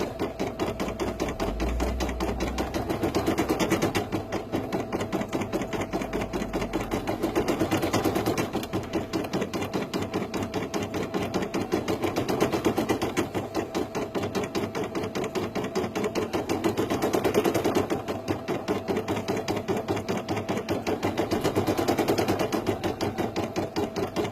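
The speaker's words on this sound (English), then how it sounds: "Now we're just stitching out the little red berries." Embroidery sewing machine stitching small red holly berries, a fast steady mechanical needle rattle running continuously and loudly, with a slow periodic swell in intensity.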